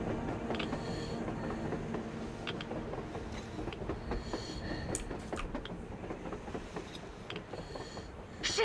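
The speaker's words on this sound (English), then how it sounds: "A train! A damn train on the surface!" A train moves along surface tracks in the Metro video game, a continuous rumbling roll with scattered clacks and metallic squeaks, moderately distant and without any voices.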